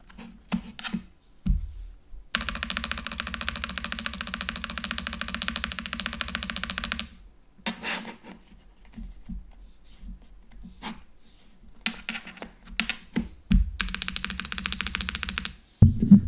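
Mechanical keyboard in its hard setting, typed on in bursts of dense, rapid key clacks separated by short pauses, close and fairly loud, with a few heavier thumps like spacebar strikes.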